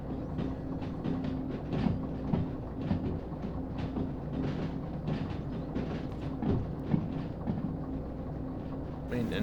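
A locomotive rolls slowly through a rail yard in Derail Valley, producing a continuous low rumble and engine drone with faint rhythmic clacks and a brief louder burst at the end.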